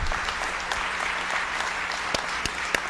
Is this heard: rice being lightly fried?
no